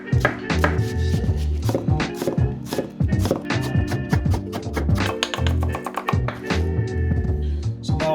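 A knife chops a bunch of onions on a cutting board for pasta with peas, fast steady close-up knocks of the blade, loud and alone.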